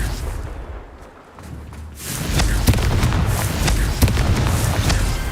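A Confringo spell explosion in Hogwarts Legacy, a loud booming blast followed by sustained crackling bursts and sharp pops that continue to the end, with no voices.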